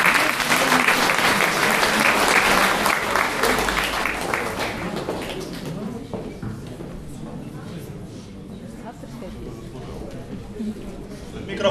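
Loud audience applause fills a concert hall at a guitar-and-poetry song festival, a dense wash of many hands clapping that gradually thins and fades over several seconds.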